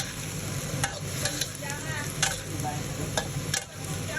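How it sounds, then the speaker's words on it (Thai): Chinese kale and shrimp paste being stirred and stir-fried in a hot pan, a steady sizzle with repeated scraping strokes of the utensil throughout, close and fairly loud with no talk. "แล้วก็ทำกวนคนให้เข้ากันนะครับ"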